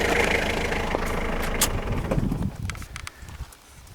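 A converted 1994 Chevy S10 with a diesel swap idles outdoors, a rough, clattering low rumble with knocking pulses that fades somewhat toward the end of the short stretch.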